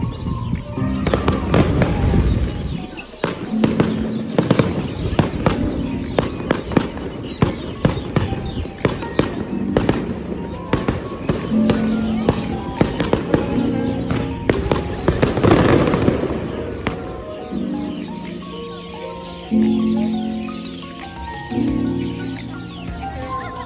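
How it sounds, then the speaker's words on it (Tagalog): Fireworks go off at a lantern festival in Taiwan: a fast, crackling run of close, loud bangs and pops that thins toward the end, with birds chirping faintly underneath. "nakakatuwa nga at saktong-sakto ay nagpa-fireworks sila"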